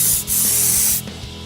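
Spray undercoating hisses steadily from an aerosol can onto a vehicle's underside for corrosion protection, a loud continuous burst that cuts off abruptly at the end, with faint mechanical knocks beneath.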